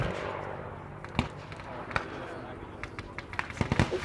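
Scattered sharp blasts and cracks of ground explosions pop at uneven intervals at a WW2 re-enactment with tanks and a Spitfire, growing busier toward the end over a rumbling background and a talking voice.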